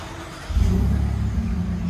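A 2022 Chevy Colorado 3.6L V6 with a Magnaflow Magnapack exhaust starts up or revs briefly, a deep engine rumble that rises after a moment of quiet and holds steady, close by.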